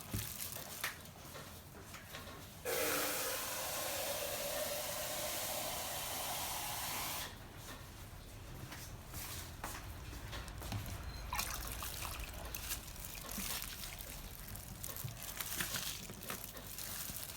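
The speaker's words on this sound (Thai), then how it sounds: "เดี๋ยวเดี๋ยวเติมน้ำอีกนิดนึง" Water pours from a tap into a bowl of vegetables soaking in baking soda solution, a loud steady rushing flow that stops, followed by quieter trickling, dripping and light handling noises nearby.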